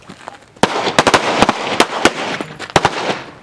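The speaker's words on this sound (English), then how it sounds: "we're going to fire one round at a time, on my command" Pistol shots fired on command on an outdoor shooting range, a ragged volley of sharp, loud cracks from several shooters at once, dense near the start and then thinning into scattered later shots.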